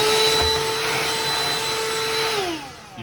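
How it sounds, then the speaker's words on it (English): A handheld vacuum cleaner sucks trimmed beard hair out of a bathroom sink, its steady loud whine running alone and close before the motor spins down near the end. "you just vacuum it up"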